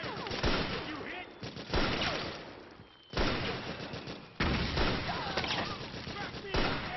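Video game battle gunfire crackles in dense, sustained volleys with loud onset bursts, heavy and distorted, while voices shout orders over the shooting.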